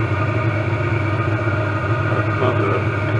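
A diesel heater warming up inside a big enclosed trailer runs with a steady, close, buzzing combustion hum and a low rhythmic thrum throughout, loud and unbroken, with no talk.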